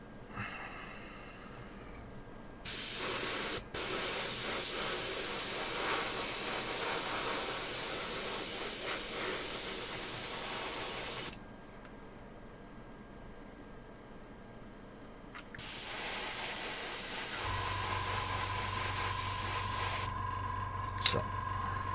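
An airbrush sprays in long steady hissing bursts while miniatures are painted, cutting off for a few seconds between passes, with a low hum and a faint tone joining near the end.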